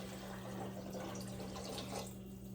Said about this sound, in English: So if you want to pour 2 of these containers in there, feel free.